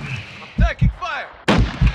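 Gunfire in the video game Warzone 2.0: a few sharp, close bursts in two pairs, mixed with swooping tonal sounds over a low background rumble.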